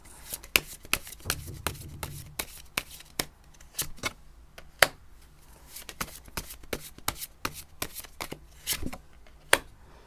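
Tarot cards being shuffled and tapped, a series of crisp snapping riffles at an uneven rhythm, close and fairly quiet with no talking.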